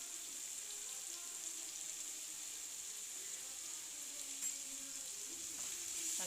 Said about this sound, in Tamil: நல்லா வெங்காயத்தை வதக்கிங்க